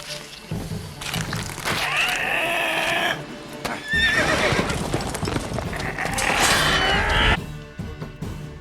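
A horse neighs twice with long, shrill whinnies over steady clip-clopping hooves, all loud and close, in the video game The Witcher 3.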